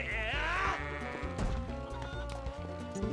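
A goat bleats in the video game The Legend of Zelda: Twilight Princess, a wavering cry at the start over steady in-game music and effects.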